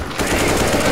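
Rapid automatic gunfire from CSGO zombie escape on the ze_johnny_nukem map, a dense loud burst starting after a brief quieter moment and continuing without pause to the end.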